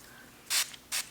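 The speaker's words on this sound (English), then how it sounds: "it's not spraying like evenly. It's not like an even fine mist." Two short, bright hissing bursts from a facial mist spray bottle, a longer pump followed by a second quick spritz, close and fairly loud against a quiet room, the spray coming out unevenly rather than as a fine mist.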